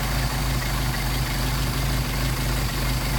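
A car engine fitted with Solex carburetors idles while the carburetors are being synchronized, giving a loud, close, steady rumble with an even low throb and no talk.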